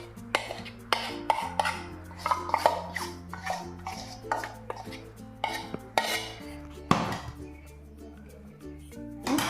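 Fried jackfruit is mixed into a dough in a bowl, producing irregular clinks and scrapes of a utensil against the vessel, moderately close, with a short low hum and no talking.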